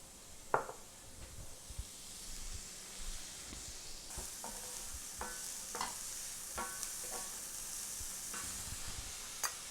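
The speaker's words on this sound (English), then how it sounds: "and then we'll add our black beans." Onions and black beans fry in a pan, a steady sizzle broken by several sharp scraping stirs, close and fairly quiet with no talking.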